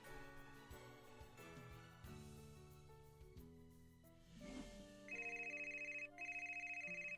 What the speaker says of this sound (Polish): Ważny telefon.